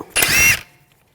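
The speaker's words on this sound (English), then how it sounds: "Now we're going to remove the rotor, use a 10mm socket, take this bolt out." A short, loud whir of a power tool driving a 10mm socket to remove the brake rotor bolt on a 2001-2009 Volvo S60, lasting about half a second and then trailing into quiet.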